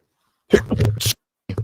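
Two short human sneezes, close and loud, the first a quick burst and the second a briefer one after a pause, amid a relaxed sports watch-along setting.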